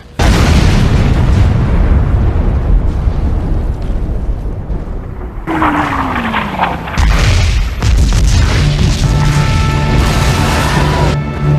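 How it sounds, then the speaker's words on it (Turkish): An enemy warship is hit and explodes, with a sustained heavy booming roar and crashing debris, a whistling fall, then further loud blasts with a tonal ringing layered over the rumble. "Bu patlama nedir böyle?"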